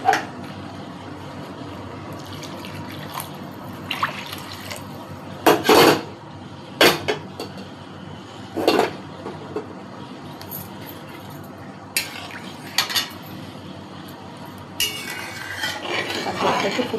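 Spices being stirred and fried in oil in a metal pan, with scattered scraping and clinking of a spoon against the pan over a faint steady sizzle, no talking.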